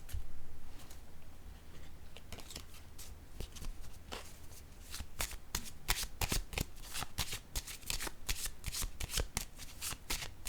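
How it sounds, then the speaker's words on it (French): Oracle cards being shuffled by hand in a steady run of crisp riffling snaps and flutters, close and fairly loud, growing denser toward the end with no voices over it. "je vais piger une autre carte ici"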